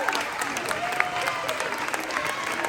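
A crowd at a summer camp celebration applauds in a dense, steady wash of clapping. The clapping is loud and continuous from start to finish, with scattered cheers mixed in.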